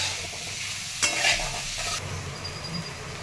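Onion frying with garlic and salt in a pan, with a steady close sizzle and a brief burst of louder stirring and spattering partway through.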